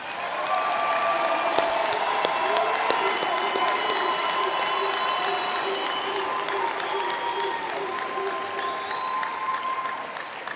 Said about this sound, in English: let us give our graduates a big hand for their hard work and